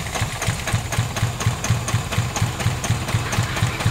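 A Mitsubishi Lancer with a 4G92 engine idles roughly and misfires after an ignition coil test, a close, loud, uneven rhythmic chugging with repeating thumps that stumble out of step.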